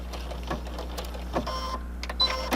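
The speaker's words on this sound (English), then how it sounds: "And then I'm going to stitch up." A sewing machine stitches a filter pocket into a fabric mask, running in short, fairly quiet mechanical bursts over a steady low hum.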